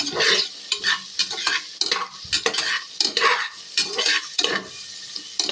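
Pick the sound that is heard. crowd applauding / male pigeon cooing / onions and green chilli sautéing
onions and green chilli sautéing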